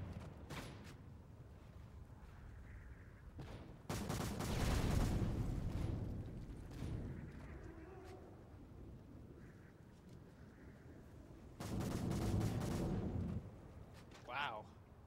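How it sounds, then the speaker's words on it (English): Gunfire from the video game Modern Warfare 3, with loud bursts of rapid shots in two main stretches and scattered single cracks between, heard under someone talking over the game. "Man, you're just shooting them up now."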